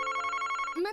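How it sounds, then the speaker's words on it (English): A telephone rings in the Famicom Detective Club: The Missing Heir game, a steady electronic bell trill filling the second before ending on a rising tone, loud and close with no talk. "Wait, the phone's ringing."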